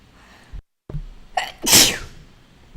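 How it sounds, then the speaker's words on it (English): A single loud, close human sneeze indoors, a sharp intake followed by a bright explosive burst, after a brief moment of silence and with no talking. "Oh, sneeze."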